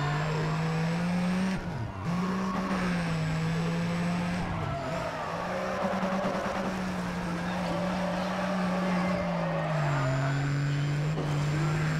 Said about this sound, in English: It's time to drift!